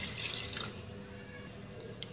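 Water poured over 700 grams of beef in a pot for a karahi, a short liquid splash at the start followed by soft trickling and drips, close and without talking.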